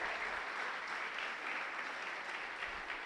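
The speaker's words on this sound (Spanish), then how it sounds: "Dale un aplauso al Señor si tú lo crees." Church congregation applauding during a Spanish-language Sunday service, a steady, dense wash of many hands clapping that holds evenly for the whole stretch without pause.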